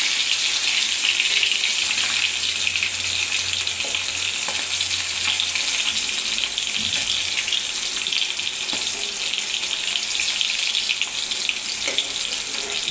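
Fish frying in a pan, a steady loud crackling sizzle of hot oil that holds through the whole stretch with no voices over it.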